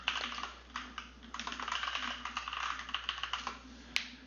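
Password being typed on a computer keyboard while connecting to an Azure virtual machine, a quick run of close, light key clicks with a few brief pauses and one sharper tap near the end.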